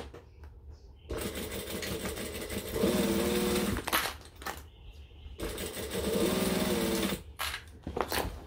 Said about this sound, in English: lining side up, we're gonna go under and stitch